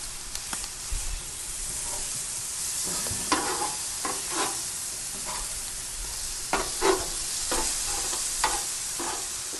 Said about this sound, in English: I'm going to let those sear for just a minute or two.